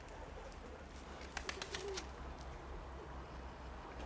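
Soft, low pigeon coos drift in faintly over a steady background hum, a few gentle calls spaced apart.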